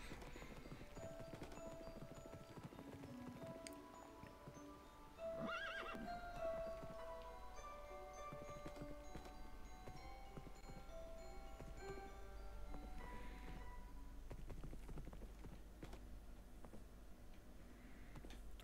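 A horse in Minecraft Dungeons whinnies and neighs in drawn-out tonal calls over a soft clip-clop of hooves, with quiet game music and ambience filling the background.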